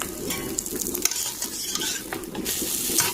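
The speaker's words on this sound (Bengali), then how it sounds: "ভেজে রাখা মাছগুলো আর একবার ভেজে নিচ্ছি" Previously fried river fish sizzles again in oil in a kadai, a continuous close crackling hiss with light clinks and stirring, and no talking.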